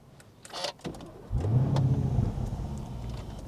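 2025 Lamborghini Urus SUV: a few soft interior clicks, then the engine cranks and fires with a deep, loud roar that settles into a steady, rumbling idle nearby.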